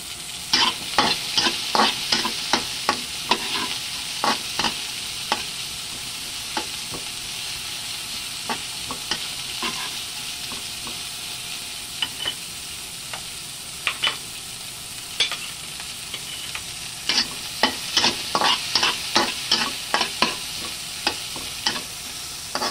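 Onions sauteing in a frying pan for tilapia sweet and sour, with steady sizzling and frequent clattering stirs of a utensil against the pan, close and fairly loud throughout.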